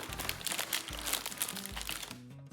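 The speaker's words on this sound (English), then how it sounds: "I hear crunching." Close, steady crunching and crinkling while dogs eat their food, continuous for a few seconds, with faint music underneath.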